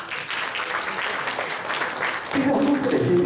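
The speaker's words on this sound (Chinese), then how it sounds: "请给第四类包装类 A 掌声鼓励" An audience at an award ceremony for packaging design claps warmly, with steady applause that swells louder toward the end; talk mixes in over the clapping.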